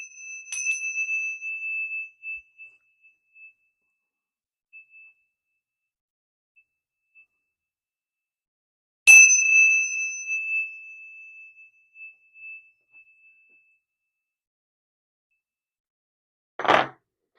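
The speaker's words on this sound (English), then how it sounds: "I'm going to use the chimes real quick to clear" Chimes are struck twice in a quiet room. Each strike rings out as bright, clear tones that slowly fade, followed by a short dull knock at the end.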